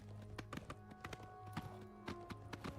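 Horse hooves clip-clopping in the video game Oblivion Remastered, a steady galloping rhythm of repeated sharp thuds over a constant low game-ambience hum, fairly faint and without talk.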